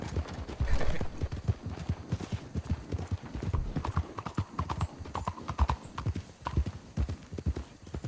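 Horse hooves clip-clop in a steady, brisk rhythm close by in the video game Red Dead Online, with faint background noise and an occasional soft snort.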